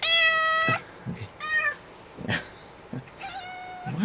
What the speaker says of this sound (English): So we have another cat.